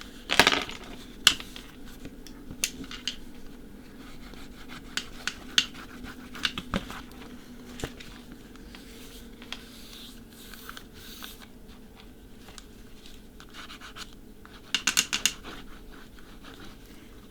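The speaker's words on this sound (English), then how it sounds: "keep burnishing until it's stuck down" Burnishing a paper craft piece to stick it down, giving soft, faint rubbing and scraping strokes with scattered light taps and clicks, close and quiet with no talk.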